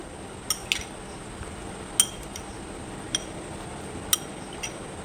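A spoon clinks sharply against a bowl as mayonnaise and tomato sauce are mixed, giving about half a dozen scattered taps over a quiet, soft background.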